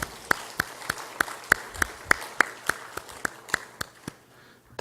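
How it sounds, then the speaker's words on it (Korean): An audience claps in unison during a church Wednesday worship service, with about a dozen sharp, evenly spaced claps in a steady rhythm that stop near the end. "다시 화이팅하는 의미에서 박수 한번 하겠습니다"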